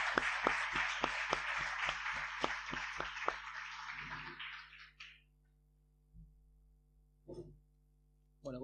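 An audience gives a short burst of applause for Virginia Bouvet at a live radio event, claps rising quickly then tapering off within a few seconds, followed by scattered small noises in a quiet room.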